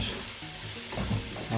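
Chopped onion frying in oil in a pan as the base for a fish curry, a steady close sizzle with a few louder crackling bursts near the end.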